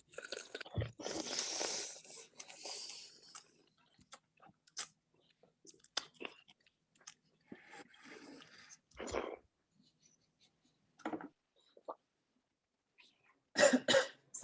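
A person coughs repeatedly after sipping organic extra virgin olive oil at a tasting, with short harsh bursts, throat clearing and slurping scattered among quiet gaps and brief talk.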